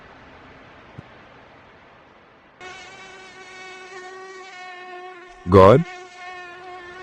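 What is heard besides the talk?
mosquitoes buzzing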